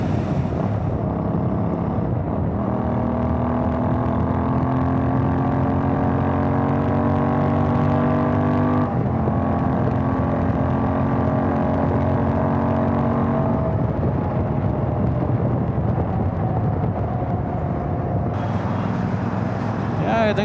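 A Royal Enfield Interceptor 650 motorcycle accelerating on a rainy highway, its engine drone rising steadily in pitch through the gears under constant wind rush, with brief shifts between pulls.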